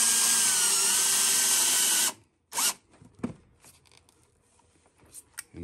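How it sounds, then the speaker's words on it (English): A power drill bores down into a polystyrene scenery board for a slot car road layout, giving a loud, steady, close whine for about two seconds before cutting off abruptly, followed by a few faint handling clicks and knocks. "drill down through."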